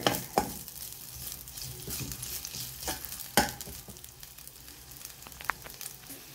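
Ginger dropped into hot cooking oil in a pan gives a soft sizzle, broken by scattered sharp clicks and utensil scrapes as it is stirred, fairly quiet and close.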